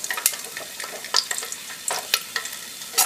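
Garlic dropped into hot oil with cumin seeds and peppercorns over medium heat for a dhaba-style aloo gobi curry, giving a close, lively frying sizzle with bursts of sharp crackles and pops.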